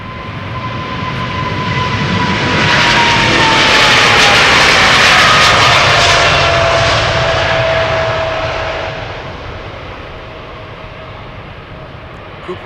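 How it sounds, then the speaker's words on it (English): A JetBlue jet airliner taxis at Amsterdam Schiphol Airport, its engines a loud steady roar with a gliding whine that swells as it passes close and then slowly fades. "in the JetBlue to Boston, that is taxiing this way"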